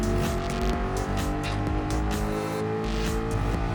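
Ford Mustang Gr.4 race car engine held at full throttle in Gran Turismo 7 on a mountain circuit, a loud, steady, buzzing high-rev drone with a dense harmonic whine and no letup.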